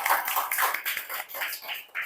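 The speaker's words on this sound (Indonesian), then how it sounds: "kasih tepuk tangan dulu buat Alin ya." A group of people clapping in applause for a participant during a teachers' coaching session, a steady, dense patter of hands lasting about two seconds with no talk over it.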